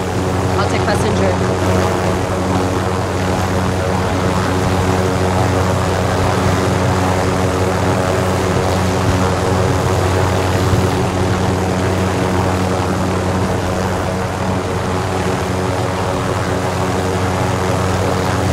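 Propeller aircraft in Call of Duty: Warzone, a steady loud engine drone that holds at an even level throughout without fading.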